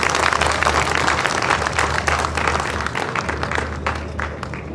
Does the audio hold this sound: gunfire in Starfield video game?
no